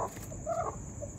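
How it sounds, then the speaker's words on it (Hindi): A hen incubating eggs gives a single soft, throaty cluck up close, with quiet room noise around it. "मुर्गी"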